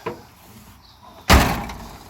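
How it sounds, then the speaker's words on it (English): A 1971 Buick Riviera boattail GS door is swung shut with one loud, close slam after a faint click, then fading resonance. The door does not shut all the way. "The door don't shut all the way."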